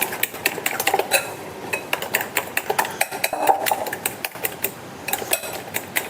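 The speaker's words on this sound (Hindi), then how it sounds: "चीनी और एग को मैं अच्छी तरह मिक्स कर लूँगी।" Sugar and egg whisked by hand in a bowl for rose cookie batter: a rapid, uneven run of clinking taps as the whisk strikes the bowl's sides, close and fairly loud throughout, with no voices.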